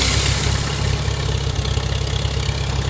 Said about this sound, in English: we'll hit the starter. It should start. This is a pretty good running little tractor.